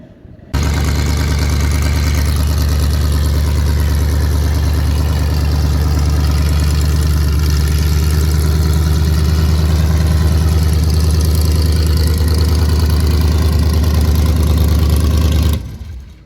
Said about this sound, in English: So we're at the Medicine Hat drag strip, and Merle has brought Sappy